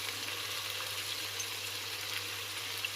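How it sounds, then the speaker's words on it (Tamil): Coriander and mint leaves sizzle steadily in hot oil in a pan while cooking mutton biryani, a continuous dense crackle with no talk and no pauses. "சேர்த்து இந்த ஆயிலே நல்லா ஃப்ரை பண்ணி விட்டுருங்க"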